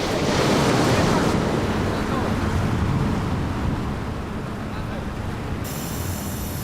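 Loud, steady surf of the Cantabrian Sea, with broad rolling wave wash and heavy wind rumble on the microphone, continuous throughout with no voices.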